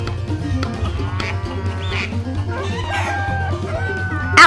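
Roosters on a farm crow and cluck repeatedly over a steady low rumble, with a louder burst of calling near the end and no talking.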